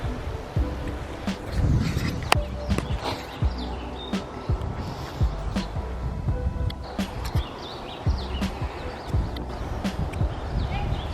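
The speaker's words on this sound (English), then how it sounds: "there's a guy riding around on a horse." A horse carrying a rider walks past outdoors, a string of irregular hoof knocks of varying loudness with birds chirping in the background.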